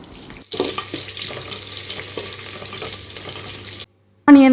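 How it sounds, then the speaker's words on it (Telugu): Thinly sliced onion and biryani spices sizzle steadily in oil in a pot, a close, continuous crackling hiss with occasional stirring, then a brief silence before a short burst of noise. "సన్నగా తరిగిన హాఫ్ ఆనియన్ ఉంది కదా, దాన్ని వేసుకొని బాగా ఫ్రై చేసేసుకోవాలి"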